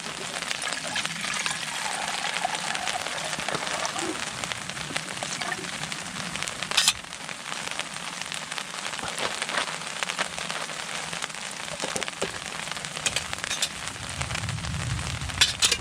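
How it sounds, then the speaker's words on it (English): A heavy rain downpour with hailstones drums steadily on the BCB Crusader MK2, a dense, continuous patter that stays loud and unbroken throughout. "And here's the heavy downpour that was due."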